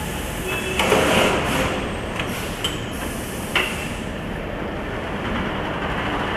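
Haas CNC vertical machining center running unattended tool change test cycles in a factory, heard as steady broadband machine noise with a few brief clunks and sliding knocks, moderately loud throughout.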